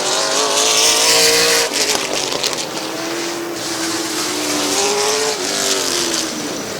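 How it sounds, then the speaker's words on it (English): A race car spins out in turn four at Midvale Speedway, engines roaring loudly with squealing, skidding tires and a sliding whine as the car rotates. "And Emerson Hoffman spins in turn number 4."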